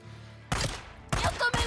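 Gunfire crackles in the video game Days Gone, several loud bursts of rapid shots in quick succession against a quiet background.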